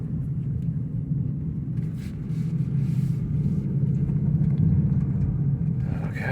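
A Toyota Prius showing fault code P3016 drives slowly around a local area, a steady low road rumble and tyre drone continuing throughout, with a brief clatter near the end.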